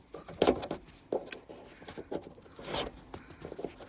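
Plastic trim tool prying and scraping at the roof rail cover of a Volvo V70, with several close, sharp scratchy bursts and snaps in an uneven rhythm, no talking.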